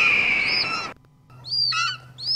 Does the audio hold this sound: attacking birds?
yes